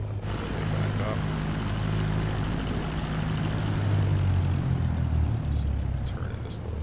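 A steady, close propeller-aircraft engine drone from a plane taxiing in Microsoft Flight Simulator 2024, holding a continuous low hum with slight swells and no clear speech on top.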